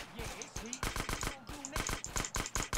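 A Micro Uzi fires in GTA San Andreas street combat. Rapid bursts of close, punchy gunshots come in quick clusters over a few seconds, with a voice talking in between.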